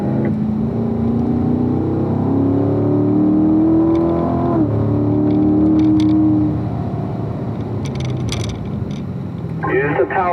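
A race car circles a track, its engine droning loudly at high revs, rising and easing through the corners, then fading slightly with a brief higher whine near the end.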